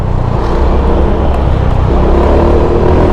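Dense road traffic surrounds a car on the road around McKinley, Taguig, a steady loud rumble of engines and tyres with a continuous low drone and no clear passes standing out.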